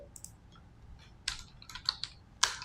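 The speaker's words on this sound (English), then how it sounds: "let me just type it out, right?" Computer keyboard typing, a few sparse, close clicks and taps in irregular bursts with short gaps between them, fairly quiet, no voices.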